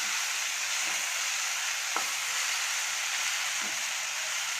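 Egg rice is stirred in a hot pan, giving an even, soft frying hiss with a couple of faint scraping taps from the utensil.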